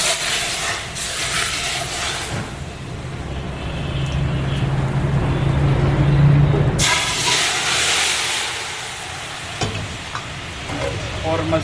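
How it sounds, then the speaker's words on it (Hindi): Boiling ghee poured over cooked meat for namkeen gosht, a loud broad sizzle and hiss that swells, eases off, then surges again with a sharp burst of frying. "इसके ऊपर से अब खोलता हुआ घी इस्तेमाल करेंगे।"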